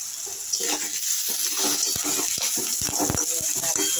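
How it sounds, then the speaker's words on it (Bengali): Onion, garlic and curry leaves fry in hot oil, making a continuous near sizzle with scattered crackles and pops, while a faint voice sits low underneath. "পেঁয়াজটা একটু ভাজা হচ্ছে। এর মধ্যে আমি কটা কারি পাতা দিয়ে দেবো।"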